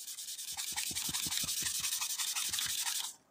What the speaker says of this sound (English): you're just going to want to start scrubbing